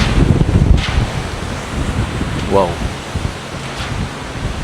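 Strong Super Typhoon wind buffets the microphone in loud, rumbling gusts that swell and ease, and a person gives a brief exclamation.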